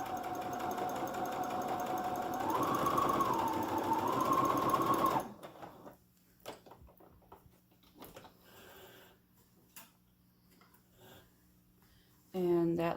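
A home sewing machine runs steadily for about five seconds, stitching a fabric test strip before sewing a three-layer face mask, then stops; quiet rustling and handling follow, with a voice briefly at the end.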